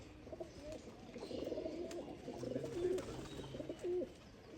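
Pigeons in a loft, a mix of young birds and first-year birds, coo softly and repeatedly in low rolling phrases, close by with faint background noise and no talk.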